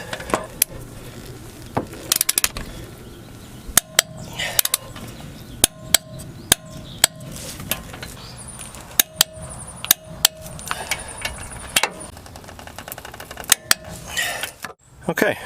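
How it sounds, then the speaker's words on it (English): Sharp metallic clicks and knocks from a torque wrench tightening front hub bolts to 133 foot-pounds on a K2500 OBS truck during brake work, irregular snaps spread across the clip over a steady background hum. "we're going to get all of our hub bolts torqued down to"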